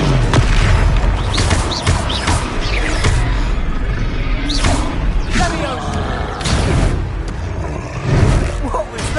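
Confringo fire spells from Hogwarts Legacy detonate in heavy booms and thuds among whooshes of combat, loud and close, with shouted spell incantations over the top.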